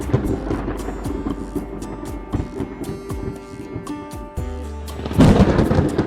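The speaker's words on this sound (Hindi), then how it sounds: "एक दिन गांव में भारी बारिश हुई।" Heavy rain pours over a village as thunder rumbles and cracks, a loud, continuous storm with no voices heard.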